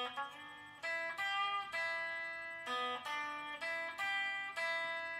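A little blues lick in E is picked on the first and second strings of a guitar, bright plucked notes in short phrases with brief gaps, clean and close, no voice.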